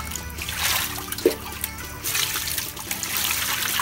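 Tap water trickles and splashes steadily while a chicken is washed by hand, close and continuous with small splatters and handling noises.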